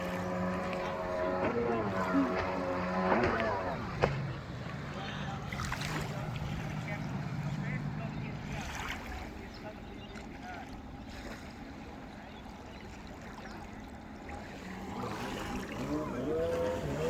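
A jet ski runs on Lake Albert in New South Wales, Australia, its engine droning at a moderate distance over wind and water wash, with voices talking now and then.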